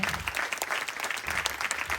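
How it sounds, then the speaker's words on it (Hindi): An audience at a Brahma Kumaris skit in Gurugram claps steadily and fairly softly, a dense patter of many hands continuing throughout with no voices on top. "इन सबके लिए प्लीज एक जोरदार तालियां बनती है"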